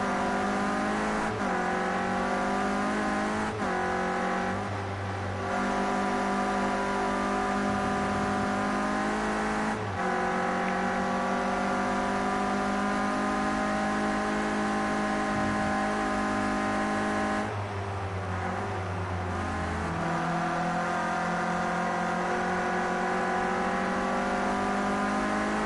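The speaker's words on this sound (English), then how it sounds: "Let's go on board for this lap and watch how Amiga tackles the circuit" On board a Renault Clio Cup race car lapping the Brands Hatch Indy circuit, the engine drones loudly and continuously, rising through the revs, dropping sharply at several gear changes and lifts, then climbing again.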